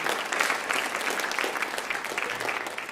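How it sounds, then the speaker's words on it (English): A community-day writers expo audience claps for volunteers heading on stage, a steady round of applause at moderate distance lasting a few seconds. "Round of applause."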